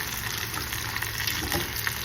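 Gulf white shrimp simmering in a jambalaya pot, giving a steady, close sizzle and bubbling hiss that runs evenly throughout with no one speaking.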